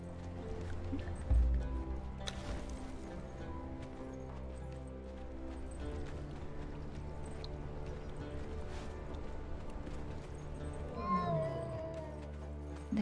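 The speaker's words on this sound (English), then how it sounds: "The cat is too loud." A cat in Conan Exiles meowing and caterwauling over a continuous background of game ambience and clopping hooves, moderately loud and persistent.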